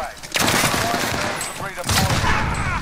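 Heavy video game gunfire crackles as a dense, loud volley that runs through the whole moment, with a brief voice and an echoing tail.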